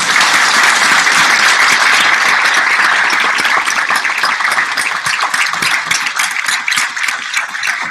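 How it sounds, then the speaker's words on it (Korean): Steady, loud applause from an audience at a Stanford University meeting with Sewol ferry victims' families, dense clapping sustained throughout with no talk over it. "감사의 박수 부탁드립니다"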